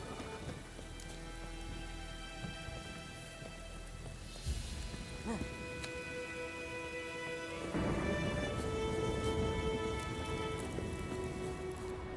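A thunderstorm in the video game The Witcher 3 brings steady heavy rain with rumbling thunder that swells partway through, a dense continuous wash of sound.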